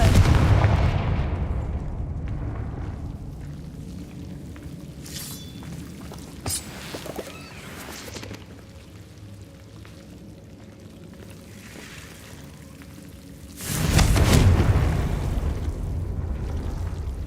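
A Confringo fire spell blasts in Hogwarts Legacy: a loud rumbling explosion at the start, scattered sharp cracks in between, and another strong boom near the end, all close.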